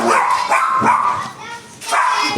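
Several dogs bark loudly and repeatedly in an indoor setting, with yips mixed into the barking and a voice heard among them.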